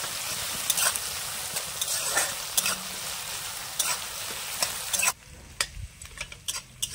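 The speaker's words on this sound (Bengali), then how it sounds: "চিংড়ি মাছগুলো আমি সুন্দর করে ভেজে নেব।" Shrimp frying in a pan with garlic, a loud, continuous sizzle broken by scraping stirs, the sizzle easing noticeably partway through, close up and without voices.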